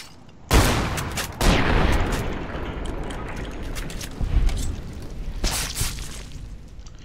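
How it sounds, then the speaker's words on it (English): Shotgun blasts in the video game Fallout New Vegas: loud, close booms with long rumbling tails, a couple of big hits followed by more shots a few seconds later, and no talking. "that shotgun's not doing too bad"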